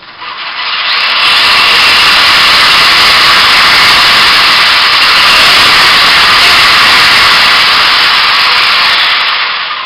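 Up close and very loud, an RC car's four-wheel-drive motor screams continuously for about ten seconds, a harsh broadband whine with gritty texture that rises quickly and holds steady.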